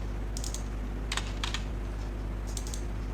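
Keystrokes on a computer keyboard come in short clusters of clicks, near and light, over a steady low hum with no talk.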